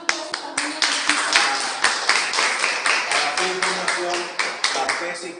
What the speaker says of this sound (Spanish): les damos una aplauso también.